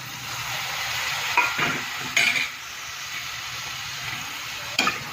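Potatoes cook with green garlic in a pan, sizzling steadily while a utensil stirs and scrapes, with a few distinct metallic clanks against the pan.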